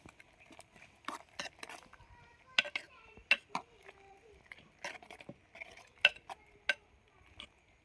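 A spoon stirs vegetable pieces in a cooking pot, producing scattered clinks and scrapes against the metal, fairly close and intermittent, with quiet background sounds between strokes.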